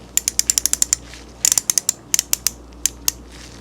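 A vintage Proto 4749 quarter-inch drive box-head ratchet clicks in quick bursts as its switch is flipped and the mechanism is worked, producing crisp, close metallic ticks in uneven clusters.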